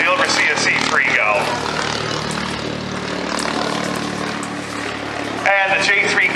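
A 1921 C-3 biplane passes at high speed, around 70 mph downwind, its propeller engine a steady loud drone throughout, with a voice speaking over it.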